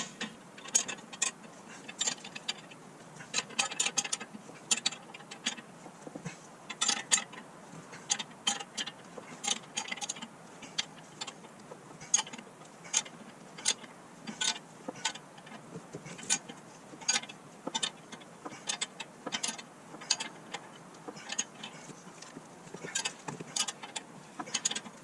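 Ratchet tightening a 21 mm bolt on a Honda Civic lower control arm during a ball joint replacement, giving rapid, irregular bursts of close metallic clicking with brief pauses, no voices.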